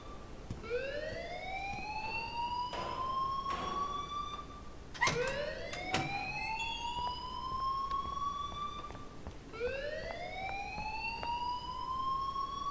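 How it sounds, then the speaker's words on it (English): A rising electronic alarm from the video game Life is Strange sweeps upward three times in a row, loud and repeating, with a few brief clicks between the sweeps and no talk. "please turn off that alarm since that's your job."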